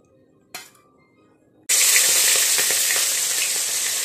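Fish heads coated in salt and turmeric drop into hot oil in a wok. A brief clink comes first, then a loud, sudden, continuous sizzle that holds steady to the end, with no talking.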